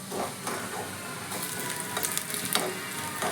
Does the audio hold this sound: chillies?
yes